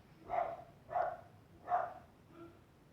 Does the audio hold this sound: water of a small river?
no